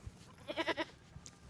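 Goats in a farm goat pen give a short burst of several bleats in a row, moderately close, set against quiet background noise with a few faint knocks.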